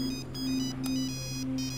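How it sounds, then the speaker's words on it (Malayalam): A mobile phone ringtone plays in a thriller film scene, a sustained electronic tone pattern that pulses and repeats. It is fairly quiet but steady, and no one speaks over it. "എടാ, നീ ആ ഫോണൊന്നും എടുക്കടാ."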